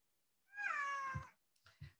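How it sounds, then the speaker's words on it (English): A domestic cat gives one clear, drawn-out meow, faint and in the background, followed by a couple of soft thumps and a brief quieter sound. "That sound in the background is the family cat."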